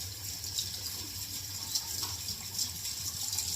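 Tap water runs in a steady, continuous stream as hands are washed during a night-time skincare routine, close and even throughout with no talking.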